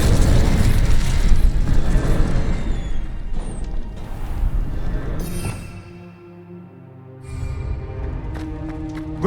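The Incendio fire spell in Hogwarts Legacy: a loud, crackling burst of flame and booming impact that roars and slowly fades, followed by quieter ringing tones.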